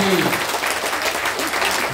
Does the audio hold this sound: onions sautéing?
no